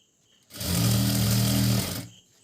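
An electric sewing machine stitches lace onto a fabric frill for a decorative seat cover, whirring in a single loud, steady burst of about a second and a half that starts and stops sharply, with no talking.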